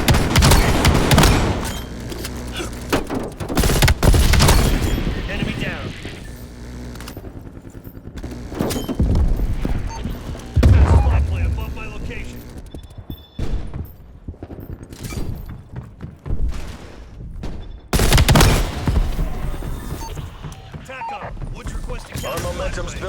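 Rapid bursts of M16 tactical rifle fire in a Black Ops Cold War multiplayer match, sharp repeated shots in clusters with explosions and game announcer voice lines between them.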